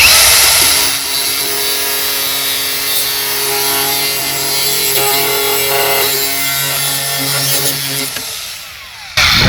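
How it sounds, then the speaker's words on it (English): Cutoff wheel grinding through the steel rear seat frame of a Chevy Silverado, a loud, close, continuous high whine with steady harmonic tones lasting about eight seconds before spinning down abruptly. "we're going to take a cutoff wheel right on that 2-inch line"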